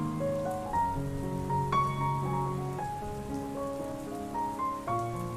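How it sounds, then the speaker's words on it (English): Gentle rain patters steadily on surfaces, blended with soft, sustained melodic notes from ambient music, calm and even throughout without any voices. "As designers listen to the gentle raindrops and soothing melodies, they are transported into a state of tranquility."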